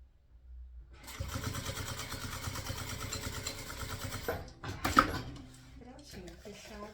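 A sewing machine runs a seam on a fabric bento-style knot bag, giving a steady motor whir of about three seconds that stops abruptly, followed by brief handling clatter.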